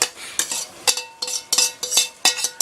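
Utensil scraping and clinking against a pan as egusi is stirred in to fry with meat, about eight rhythmic strokes, near and moderately quiet with no talking.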